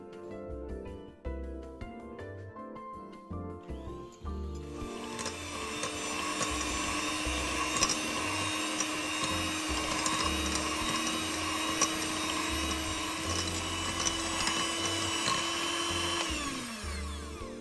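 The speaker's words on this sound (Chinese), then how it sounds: "拌匀后，再用搅拌器打拌" An electric mixer beats butter batter in a bowl, starting after a quieter few seconds and then running as a steady, close whirring drone with a constant motor tone that winds down near the end.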